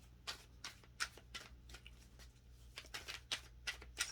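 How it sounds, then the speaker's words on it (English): Tarot cards shuffled by hand, heard as about a dozen crisp riffling bursts in an uneven rhythm, close and fairly quiet, with no voices. "I really just wanted to shuffle these cards because I haven't shuffled them on camera."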